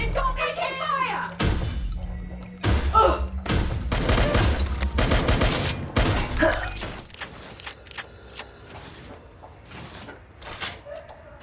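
Gunfire in the Xbox One game Watch Dogs Legion, loud bursts of shots and fusillades with booms and mechanical clatter, mixed with game voices shouting over the combat.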